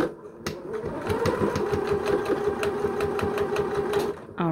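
A sewing machine runs slowly and steadily while sewing in a zipper, producing a rapid, even stitching clatter at moderate, close volume for a few seconds.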